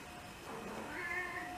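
A house cat meows for food, a drawn-out, fairly quiet call that rises and wavers over about a second and a half, close by indoors with no talking.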